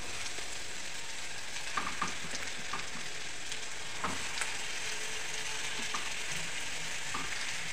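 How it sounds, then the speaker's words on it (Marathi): Ground masala paste for stuffed brinjal frying in oil over a low flame, a continuous close sizzle broken by scattered clinks and scrapes of a spoon stirring the pan. "हे वाटप थोडंसं भाजून घेते"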